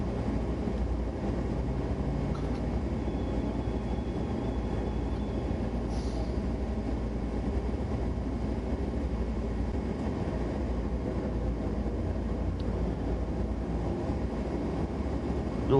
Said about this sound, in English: Ooh, choo choo. Ooh, that's a long intermodal.